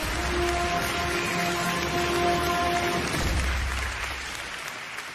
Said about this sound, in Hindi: तो आइए हम सब साथ मिलकर तालियों से स्वागत करते हैं परागी का।